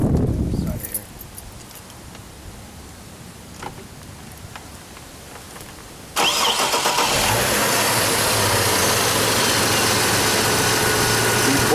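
A car engine cranks and catches during an alternator test, then settles into a steady loud idle. Quieter handling noises come first, and the running engine carries on alone through the rest.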